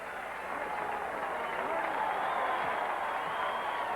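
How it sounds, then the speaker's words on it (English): Large golf gallery at the 1973 US Open applauding and cheering Arnold Palmer on the 18th hole, a dense, steady roar of clapping and voices held at even loudness throughout. "Arnold Palmer have received the most applause I've ever heard."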